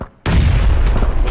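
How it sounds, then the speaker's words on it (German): A single grenade blast in the battle royale game PUBG erupts after a brief quiet moment, a sudden loud, close boom that rumbles on and decays. "Werf Granate."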